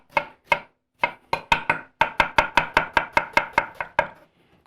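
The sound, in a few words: chopping red onion with a knife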